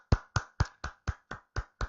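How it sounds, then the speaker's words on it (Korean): Eight evenly spaced sharp hand claps ring out in a steady rhythm, close and punchy, with no talking over them, as a live-stream host opens his broadcast. "박수!"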